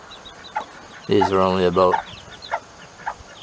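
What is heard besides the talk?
Bantam hen clucking with her three-day-old chicks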